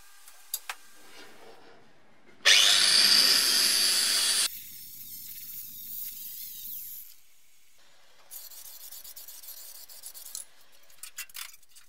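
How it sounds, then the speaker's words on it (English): Angle grinder working on metal welds on a BMW E30 325i Sport car body in a garage, one loud two-second burst of grinding, then quieter scraping and clattering that rises again near the end. "came back to do more grinding the next day"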